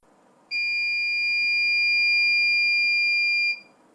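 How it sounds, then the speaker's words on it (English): A SmokeSight SS10MAMA wired and wireless smoke alarm gives a single steady, piercing electronic beep lasting about three seconds, close and clear against a quiet room. "Its white LED will flash and beep,"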